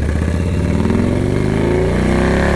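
A Harley-Davidson Ultra Classic motorcycle accelerates out onto a highway, a loud, close, continuous engine drone with rising pitch under heavy wind buffeting, no speech.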